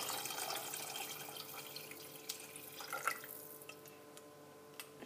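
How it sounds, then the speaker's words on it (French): Cold water runs into a pressure cooker for chorba, a faint steady splashing stream that fades slightly, with a few small knocks and drips near the end. "J'ajoute de l'eau pour remplir ma cocotte."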